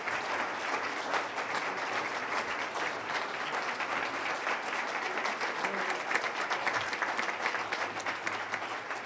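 Audience at an awards gala and talent show applauding its performers, a steady, even wash of many hands clapping for several seconds at moderate volume, somewhat distant.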